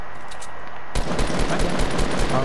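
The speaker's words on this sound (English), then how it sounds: "he's shooting a pistol" Pistol gunshots in a video game: after a short quieter stretch, a rapid string of loud, close shots fires in quick succession through the rest of the clip.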